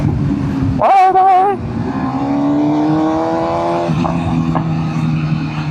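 A full-carbon BMW S1000RR motorcycle engine revs up sharply, then settles into a throaty drone with a few crackling exhaust pops, close and loud.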